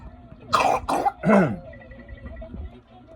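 Three close, loose coughs in quick succession, the last deeper and rougher, followed by quiet background sounds.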